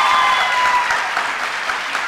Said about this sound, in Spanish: Me lo reciben con un aplauso bien fuerte